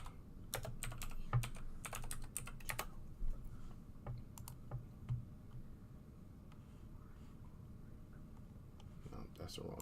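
Fast bursts of clicky key presses on a computer keyboard, uneven and fairly quiet, with a low room hum underneath.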